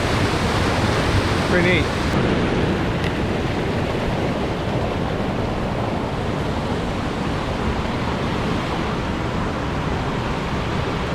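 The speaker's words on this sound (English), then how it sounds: "I hear water going this way. Is there another waterfall?" Steady rushing water fills a waterfall gorge in Ohio, a loud continuous broadband roar with wind buffeting the microphone, and a person briefly speaks near the start.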